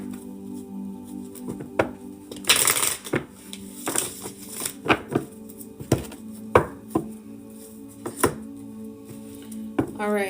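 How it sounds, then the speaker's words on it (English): Tarot cards are shuffled by hand, with soft repeated taps and slaps and one brief riffling burst, close and clear over a low, steady background tone. "Shuffling for the collective at this time."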